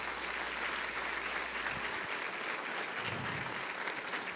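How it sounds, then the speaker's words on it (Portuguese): Church congregation applauding during a sermon, a steady, fairly faint wash of many hands clapping heard from a distance in a large room. "Você pode aplaudir forte esse nome poderoso."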